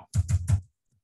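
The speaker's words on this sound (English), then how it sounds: "Keyboard is acting up again." Three quick close bursts of clatter from a computer keyboard during a coding session, loud and separated by short gaps, then silence.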